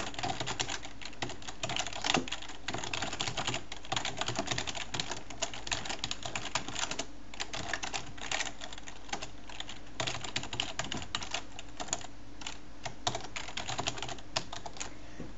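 Dense, continuous clicking of computer keys, quick irregular keystrokes tapping close by while code for a C++ program is entered, with no talk over it.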